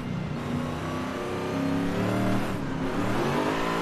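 A car engine revs hard and steadily accelerates in Forza Horizon 5 during wheel-driven drifting, a loud sustained engine note with rising harmonics and a brief dip near the end, with no talk over it.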